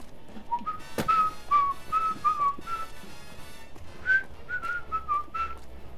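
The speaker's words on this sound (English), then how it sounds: "And yes, I shouldn't be whistling, but I think I will a little bit." A person whistles a tune alone: a clear melody of short, steady notes in two phrases, with a brief knock partway through.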